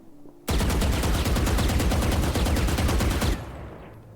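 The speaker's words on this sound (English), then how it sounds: "this is an example of what the Vandal looks like whenever you're controlling the recoil" Vandal rifle in Valorant fires a rapid, sustained spray of evenly spaced gunshots for about three seconds, loud and close, ending abruptly with a short fading tail.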